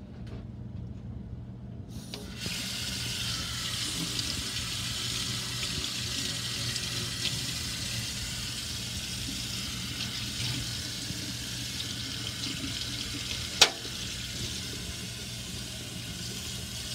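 Coins that had soaked in lemon juice are rinsed under a running tap, giving a steady close hiss of water with one brief sharp clink partway through.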